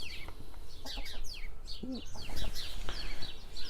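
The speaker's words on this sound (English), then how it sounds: "Guineas." Guinea fowl give repeated harsh, chirping calls around a garden plot in March, several close together, over steady low background noise.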